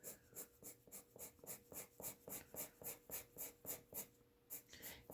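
A colored pencil scratches across paper in quick, regular back-and-forth strokes, about three per second, close and crisp in an otherwise quiet room.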